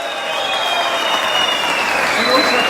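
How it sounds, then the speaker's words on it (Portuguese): Sustained audience applause fills a stage event honoring a former Internacional goalkeeper, a dense steady clatter of many hands with crowd noise, fairly loud throughout. "o goleiro Irã, recebendo as palmas de você."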